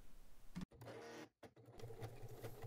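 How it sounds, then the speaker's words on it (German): A sewing machine stitching together the outer panels of a crossbody bag, with rapid mechanical chatter in short bursts broken by two brief pauses, close and quiet. "Und dann nähst du dies mit 1 cm Nahtzugabe zusammen."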